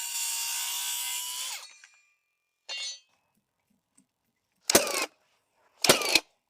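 Wooden floor blocks get their ends trimmed with a saw: a sustained cut that trails off, then three short, sharp rasping strokes separated by silence, close and clear.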